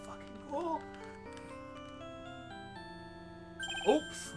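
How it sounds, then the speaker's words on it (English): A phone ringtone plays as a sequence of sustained synthetic tones that step in pitch, with faint ticking underneath. Two brief louder chirps stand out, and it stays moderately quiet with no speech. "Sorry, that's my phone."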